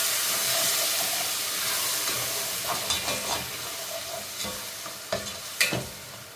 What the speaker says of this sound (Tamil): தயிரை விட்டு நல்லா மிக்ஸ் பண்ணுவேன்